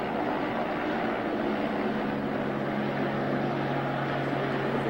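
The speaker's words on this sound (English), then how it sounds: "There's a helicopter off." A helicopter flies somewhere near glaciers in Alaska, a steady low engine drone with a constant hum that holds evenly throughout, fairly distant and without breaks.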